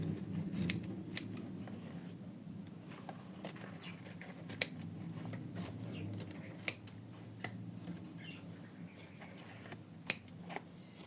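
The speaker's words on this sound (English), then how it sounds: "we attach felt and then we trim it" Scissors trim felt backing on an in-the-hoop embroidered mermaid bookmark, a steady run of crisp, close snips spaced about a second apart, loud and clear over a low background hum.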